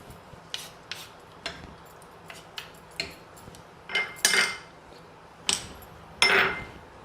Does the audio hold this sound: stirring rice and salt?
yes